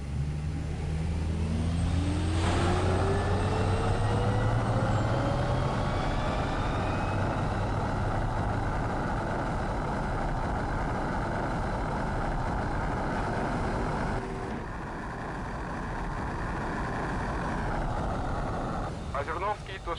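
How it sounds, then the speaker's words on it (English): A fighter jet spools up and takes off in the video game Ace Combat 7, a loud continuous engine roar with rising whine that holds steady then shifts near the end, with radio voices talking over it. "300, you're cleared for takeoff."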